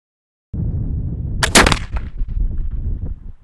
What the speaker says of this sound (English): Here we go with the first shot.